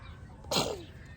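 A single sharp sneeze bursts out over a quiet room background, close and fairly loud, then fades.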